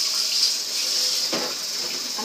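Clear water runs steadily from a tap or is poured, a close continuous splashing hiss with a brief heavier gush partway through and no voices.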